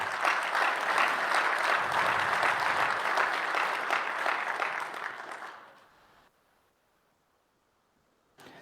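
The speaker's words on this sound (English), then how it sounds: "One final round of applause." Closing applause from a conference audience at an awards ceremony, steady dense clapping for several seconds that fades out into near silence, then a brief sound at the very end.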